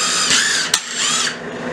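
Power tool whirring as it spins out the bolts of a front differential ring gear, two steady high-pitched runs separated by a sharp metallic clack, loud and close.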